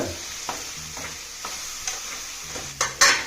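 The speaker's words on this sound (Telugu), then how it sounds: "ముందుగా గంట నానబెట్టుకుని చికెన్ వేస్తున్నాం" Soaked country chicken going into a hot pan for natu kodi curry, a steady sizzle punctuated by repeated spoon scrapes and knocks, ending in a louder burst of frying.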